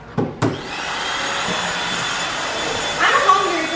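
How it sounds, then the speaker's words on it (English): Vacuum cleaner running in a house, a loud steady whooshing whine preceded by a couple of knocks, with brief thumps and a voice briefly heard near the end. "She have to vacuum the whole house"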